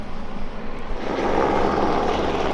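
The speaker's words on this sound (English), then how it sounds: "Helicopter, helicopter." A helicopter flying over a rally stage, its rotor and engine roar loud and continuous, growing fuller toward the end with no voices over it.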